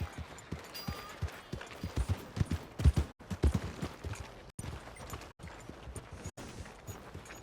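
Irregular clip-clop of a horse's hooves walking on a hard surface in Red Dead Redemption 2, steady footfalls with a few brief dropouts, fairly close and moderately loud.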